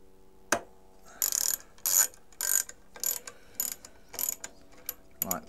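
Screws being tightened on the resin tank of an Elegoo Mars Pro 3D printer give a run of close, crisp ratcheting clicks in short bursts, roughly one every half second, with no talk.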